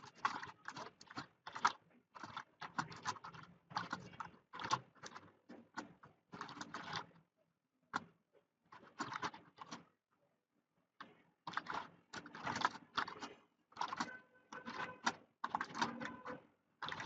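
Typing on a computer keyboard, a fast run of soft clicking keystrokes in bursts with a few short pauses, fairly quiet and close, with no talk.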